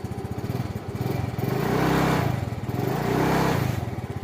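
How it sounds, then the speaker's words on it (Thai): A car engine still runs after the car crashed into a canal, puttering in a close, rhythmic idle that swells and eases twice as it is revved. "ส่วนรถนี้ก็ยังสตาร์ทติดขับได้อยู่นะครับ ยังติดอยู่นะครับ"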